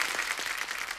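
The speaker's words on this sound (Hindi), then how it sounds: "एक बार जोरदार तालियां हो जाए" Studio audience on a Hindi comedy talk show applauding a guest's entrance, a steady wash of clapping heard briefly and at moderate level with no voices over it.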